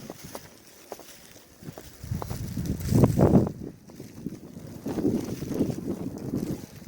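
Blizzard wind roars in gusts outdoors, buffeting close to the microphone in two long swells with quieter rustling between them, heard alone without talk.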